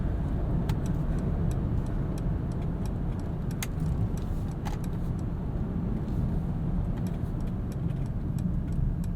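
Steady low road and engine rumble from a 2021 Mercedes-Maybach GLS 600 with a 550-horsepower engine while driving, smooth and continuous, with faint light ticks and rattles on top.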